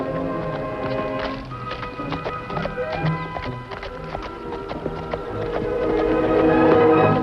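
A rider's horse clip-clops on arrival in an old western radio drama, a rapid run of hoofbeats that grows louder toward the end.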